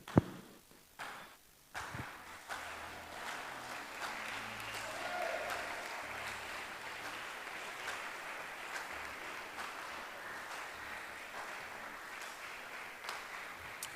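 A church congregation claps at a sermon service, a soft, continuous patter of applause heard at a distance, with a few sharper bursts at the start.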